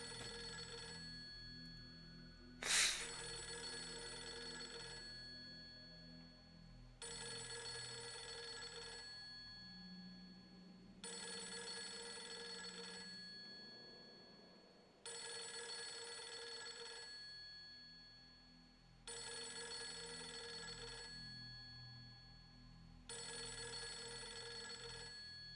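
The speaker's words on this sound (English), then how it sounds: "I'm sorry about the phone ringing noise that you have to listen to." A telephone ringing in the horror video game Fatal Frame 3, repeating in regular bursts of about three seconds with short gaps, over a low ambient hum and a faint, sharp click early on.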